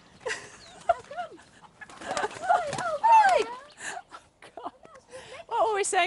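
Chickens fighting, including a bantam, with repeated shrill squawks, whimpering cries and agitated clucks in irregular bursts, fairly close, amid the squabble.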